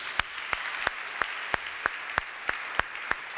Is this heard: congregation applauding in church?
yes